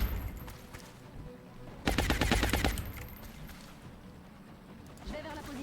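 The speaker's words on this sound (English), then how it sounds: "Suppressing fire on target." Suppressing machine gun fire in the game XCOM: Long War, a loud rapid burst of automatic shots lasting under a second, with someone talking faintly before and after it.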